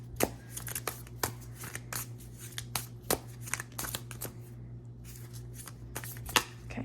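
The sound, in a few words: shuffling a deck of cards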